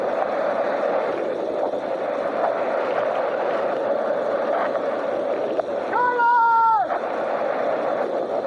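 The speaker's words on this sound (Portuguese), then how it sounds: "a força ensurdecedora da água quase anulava qualquer possibilidade de comunicação" Loud, deafening rushing water from a few metres away, a dense continuous roar that fills the whole clip, with a brief tonal voice-like sound near the end rising above it.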